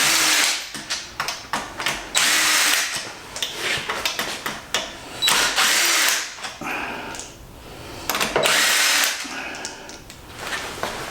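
A power tool on a car transmission repeatedly spins off bolts in short bursts, whirring loudly and stopping between each, close up with handling clatter in the gaps.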